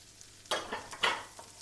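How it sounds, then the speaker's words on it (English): Apple pieces, skin on, hit a hot pan beside sausages and are stirred, giving two short bursts of sizzling and scraping, close and fairly quiet. "we start frying off our apples"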